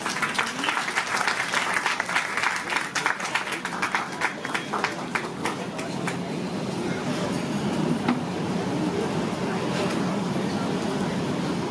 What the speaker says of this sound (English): May I have a big round of applause for them?